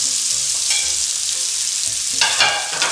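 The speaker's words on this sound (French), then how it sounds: "nous allons mettre nos têtes d'asperges comme ceci dans la poêle" Asparagus tips frying in butter in a hot pan over fairly high heat, a loud continuous sizzle that swells and crackles more strongly toward the end, with no voices.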